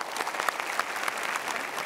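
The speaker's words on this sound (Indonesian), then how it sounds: "terima kasih kita berikan tepuk tangan" A live audience at an Indonesian motivational talk show breaks into applause, a dense, lively burst of clapping with a few sharper individual claps standing out.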